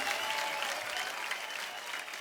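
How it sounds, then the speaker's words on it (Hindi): A television comedy studio audience claps steadily and evenly throughout, a continuous wash of applause at moderate level with no voices standing out. "बहुत जोरदार हो जाए तालियां एक बार यार।"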